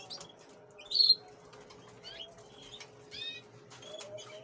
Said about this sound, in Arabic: شباب أنتم تتشوفوا دابا الطويرات كلهم